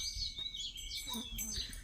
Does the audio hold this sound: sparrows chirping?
yes